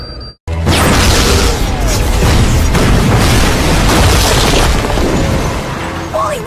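In a cartoon, a boom shroom goes off after a brief silence: a sudden loud explosion followed by a long, dense roaring rumble that fills several seconds.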